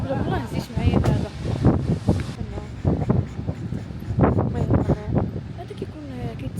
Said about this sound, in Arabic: هو ضروري غيكون كيتسمع الصوت ديال الريح.